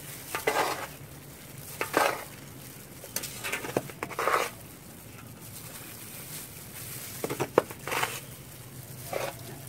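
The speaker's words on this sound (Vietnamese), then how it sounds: "sau khi đã trộn đều đất xong thì mình đổ vào thùng để trồng cây ớt" Mixed potting soil for chili plants is poured into a planting bin on a rooftop, making several separate bursts of gritty, rustling patter with quiet pauses between them.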